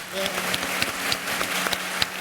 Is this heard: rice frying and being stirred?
no